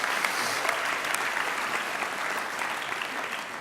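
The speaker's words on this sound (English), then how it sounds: "give yourself a round of applause" Audience of students applauding at a high school senior last assembly, a broad, even roar of clapping filling the room, sustained without talk.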